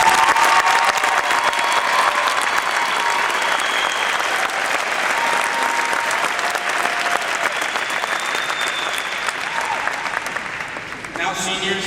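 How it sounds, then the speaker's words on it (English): Sustained applause from a graduation audience honouring the class of 2012 seniors, a dense steady wash of many hands clapping that stays full for about eleven seconds before thinning out at the end. "let us please take a second to first congratulate these seniors one more time with a round of applause"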